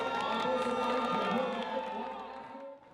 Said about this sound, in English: Boos, cheers, and applause for Fallon Fox.